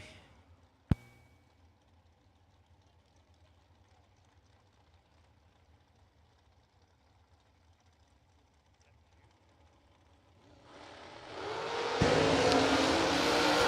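Drag racing cars including a Corvette Roadster, a faint engine rumble under an announcer's voice, then a loud launch roar swelling to a sustained blast as the cars pull away.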